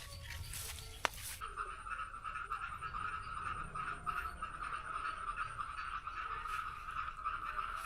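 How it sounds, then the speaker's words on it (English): Frogs croak in a garden after rain, forming a steady, continuous chorus at a moderate distance with a faint sharp click near the start. "You can hear the sound of frogs after the rain stops."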